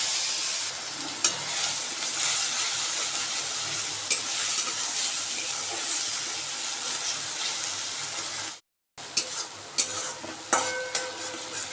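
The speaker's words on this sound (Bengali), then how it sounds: "মাছ ভাজার তেলের মধ্যে দিয়ে দিচ্ছি জিরে তেজপাতা ফোড়ন" Cumin seeds and bay leaf sizzling in leftover oil from frying katla fish, a loud steady hiss with occasional spatula taps, a brief silent gap, then sharper stirring clicks over the frying.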